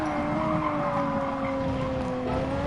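A race car in a sim racing game at Spa-Francorchamps, braking hard from top speed as its tires skid and squeal, a loud steady screech over a dense engine roar lasting the whole moment.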